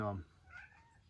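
A female cat gives a single rising, drawn-out meow in a workshop where a Ford 302 engine is being rebuilt, heard just after a brief spoken greeting.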